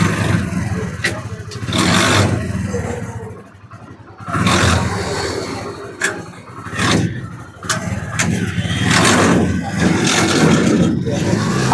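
A tractor-style bike trolley with an iron cart runs its engine during a trial demonstration, a loud, steady mechanical roar that swells and dips, with people talking over it.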